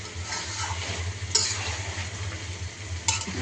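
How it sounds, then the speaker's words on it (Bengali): Chopped rohu fish heads frying with eggplant and ground spices in a pan, a steady close sizzle with occasional sharp clinks of a spatula stirring against the metal. "এখন বেগুন দিয়ে এগুলো ভুনা করে ফেলতেছি"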